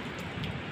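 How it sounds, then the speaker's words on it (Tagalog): Steady, dense hiss of heavy rain pouring down during a typhoon, a continuous broadband wash of drops on surfaces with no pauses and no voices. "Basa ka ngayon sa ulan."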